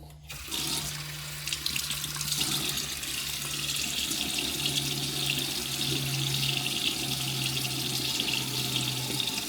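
Water running from a bathroom tap into a sink for a face wash before a shave, a steady close hiss and splash that starts after a brief handling sound and continues unbroken.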